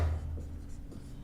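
Chalk or marker scratches across a board in a short run of soft, close strokes, with no talk over it.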